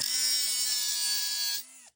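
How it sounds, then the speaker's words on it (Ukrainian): An angle grinder set against a piece of metal runs with a steady, loud high-pitched motor whine for about one and a half seconds, then cuts off and quickly winds down to silence. "Ось, беремо болгарку, беремо кусок металу."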